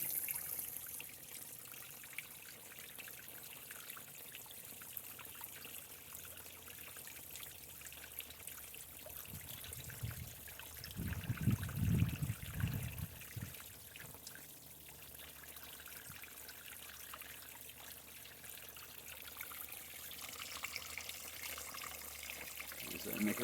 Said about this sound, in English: I really like this fountain thing. Kind of cheap, but it's cool.